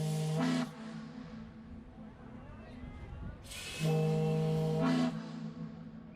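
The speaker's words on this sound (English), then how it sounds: "That steam whistle is incredibly loud and can be heard throughout the entire French Quarter" Two long, loud blasts of the deep steam whistle of the steamboat Natchez in New Orleans, the first brief and the second held for about a second, with harmonic tones over a steady background rumble.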